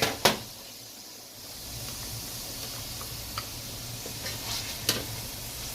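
Pepper and garlic sizzling in hot oil in a pot, a soft steady frying hiss with a few sharp ticks and clinks of a utensil, fairly faint and heard alone.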